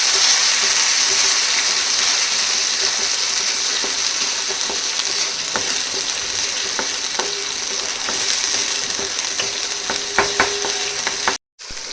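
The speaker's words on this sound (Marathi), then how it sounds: "तेल ते जास्त प्रमाणात टाकायचं नाही आता हलवून घ्यायचं मसाला तसंच" Masala fries in oil in a clay pot for a village-style mutton curry, giving a loud continuous sizzle with scraping stir strokes throughout, close up, and a brief cut-out near the end.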